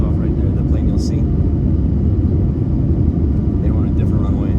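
An airliner takes off from a runway some distance away, a loud continuous jet roar and rumble filling the scene, while someone talks over it.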